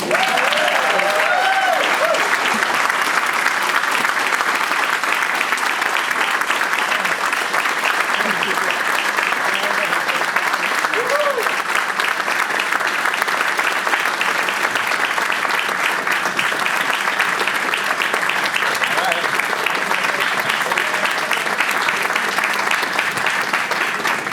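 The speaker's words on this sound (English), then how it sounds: "And you have to give applause, Mr. Kenny Holdsman." An audience applauds a speaker's introduction at a groundbreaking event for a youth sports center, with sustained, even clapping from a sizable crowd lasting over twenty seconds and a few whoops and raised voices near the start.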